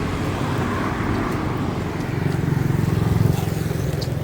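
Traffic on a Marrakech street, including a Porsche Cayenne hybrid, as a car passes close by with a steady engine rumble that swells briefly in the middle before easing, over continuous road noise.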